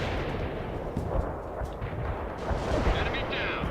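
Heavy artillery barrage in World In Conflict: a continuous loud roll of deep booms and gunfire crackle, near and overlapping, with voices talking over the bombardment.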